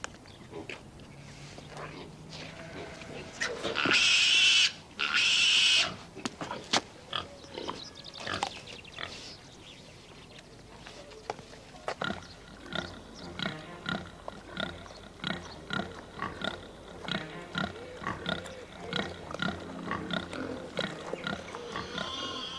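Pigs in a park grunting and oinking repeatedly, close by, with a couple of loud squeals early on followed by a steady run of short rhythmic grunts.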